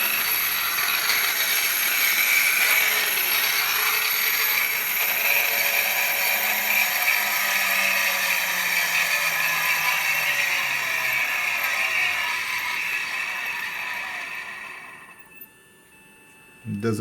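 A faulty Smiths Industries 401 RGU-FA2 gyro rate unit, powered from a 117-volt supply, whirs steadily and noisily with a ratcheting mechanical rattle, a slowly falling tone sweeping underneath, before cutting out near the end.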